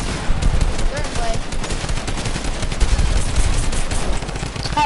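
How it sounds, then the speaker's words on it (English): Video game gunfire during a hosted 1v1 tournament: dense, continuous bursts of automatic shots, loud and close, running throughout with voices mixed in. "Stop shooting me."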